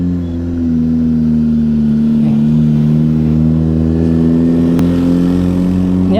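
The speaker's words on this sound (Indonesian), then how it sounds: "Ini ada mobil yang nanjak." A car climbing a steep mountain road near Batur, Dieng, its engine droning loud and close with a sustained low harmonic hum that rises gradually under load, steady and unbroken for several seconds.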